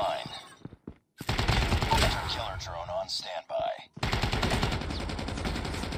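Rapid automatic bursts from an AK-47 Glacier rifle in Call of Duty Mobile, loud and close, chattering in long strings broken by brief pauses, with other game effects mixed in and no speech.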